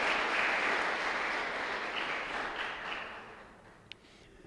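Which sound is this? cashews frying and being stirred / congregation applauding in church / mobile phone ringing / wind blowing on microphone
congregation applauding in church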